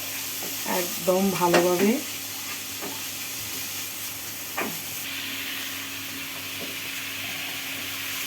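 Green chilies fry in hot oil in a home kitchen, giving a steady sizzling hiss throughout, with a brief voice near the start and an occasional soft knock of utensils.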